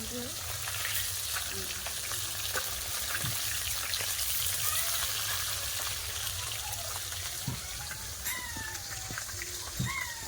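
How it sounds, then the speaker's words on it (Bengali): Puti and morala fish frying in a pan make a continuous close crackling sizzle with scattered small pops and drips, steady and fairly quiet throughout, without speech. "মাছ ভাজা হয়ে গেছে মাছগুলো তুলে নিচ্ছি"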